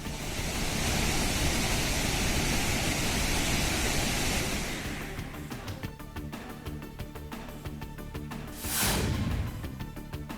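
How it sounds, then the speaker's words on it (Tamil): Reddish floodwater of the Kaveri river rushing at Hogenakkal falls, a loud, dense roar of water and wind that eases midway, then turns into rougher, gusty turbulence with one brief surge. "ஒகேனக்கல் காவிரி ஆற்றில் செந்நிறத்தில் பாயும் வெள்ள நீர்."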